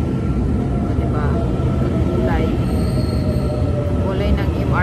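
Taiwan Railway passenger train running from Linbian toward Pingtung, heard as a steady, loud, close rolling rumble with a broad roar throughout and faint voices and brief squeals over it.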